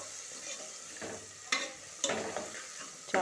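Ginger garlic paste frying in a pot of mutton curry, with a continuous hissing sizzle broken by several sharp scraping stirs of a spoon, close and fairly loud, with no voices.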